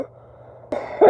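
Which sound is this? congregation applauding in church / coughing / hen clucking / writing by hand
coughing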